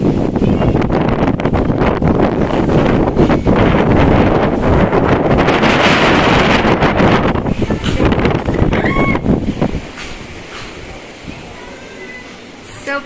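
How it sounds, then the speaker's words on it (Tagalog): Strong stormy wind buffets the microphone on a balcony at Hennan Resort in Bohol, a loud roaring rumble that drops to a lighter, quieter gust near the end. "Sobrang hangin kasi parang may bagyo."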